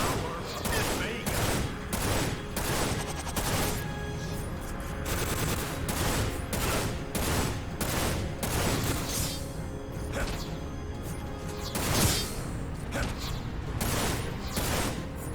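A big rifle in Dirge of Cerberus: Final Fantasy VII fires again and again in sharp, loud blasts at an irregular pace, joined by mechanical clicks and whooshes over a busy battle background.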